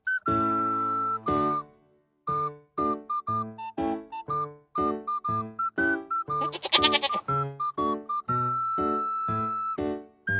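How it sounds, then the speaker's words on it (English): Several sheep bleat loudly in close succession, each cry a wavering, nasal call with clear pitch, separated by brief pauses, alone without any talk. "sheep is a farm animal"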